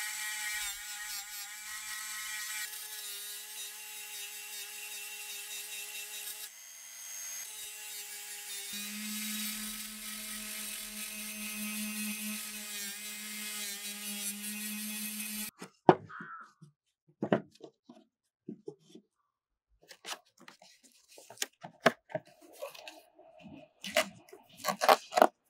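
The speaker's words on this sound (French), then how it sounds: "je passe un coup de meuleuse sur la lame pour enlever la rouille" An angle grinder works a rusty frame saw blade, a loud sustained whine whose pitch shifts as it runs, then cuts off into scattered scraping, knocks and handling noises.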